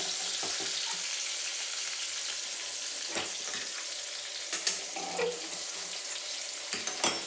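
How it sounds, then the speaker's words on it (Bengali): Sliced potatoes fry in a home kitchen pan with a steady, soft hiss of oil, broken by a few light stirring scrapes and clinks. "এই দেখো আলু ভাজে"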